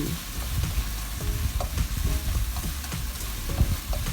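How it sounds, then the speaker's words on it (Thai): Tofu with minced pork and spring onion stir-fried in a pan, with a constant close sizzle and repeated scraping stirs of the utensil, loud and steady, no voices. "นี่ผัดให้เข้ากันเลย"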